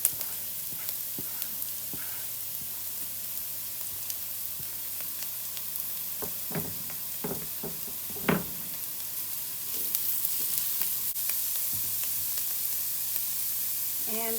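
Chopped carrot frying in a pan for a from-scratch spaghetti sauce, a steady soft sizzle with a few clicks and scrapes of stirring, fairly quiet and close, no talking.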